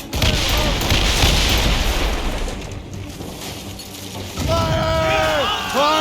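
Naval battle in Assassin's Creed Rogue: heavy ship cannon blasts and booming explosions with crashing debris, loud and close, followed by shouted voices.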